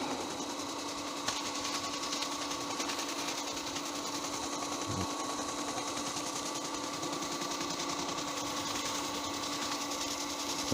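A wood lathe buffs a large 17-inch spalted sycamore bowl, giving a steady, even mechanical whir and hum that runs unbroken throughout with no talking.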